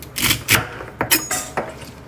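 A knife cutting the end off a stalk of celery on a board, four crisp snapping chops spaced about half a second apart, close and clear with no talk.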